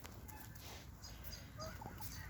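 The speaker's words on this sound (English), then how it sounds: "Yo, chickens, eat that food" Hens clucking softly while pecking at their evening feed in a backyard run, a steady low murmur of fowl with a few brief higher calls throughout.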